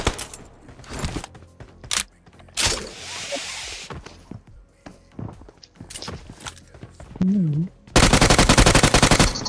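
Gunfire in the mobile battle-royale game PUBG Mobile, with scattered shots and footsteps and then a sustained loud burst of automatic fire at the end, mixed with other game effects.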